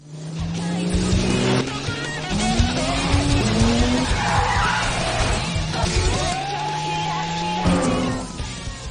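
A stolen car speeds along with a roaring, shifting engine and squealing tires, while a voice talks over the noise.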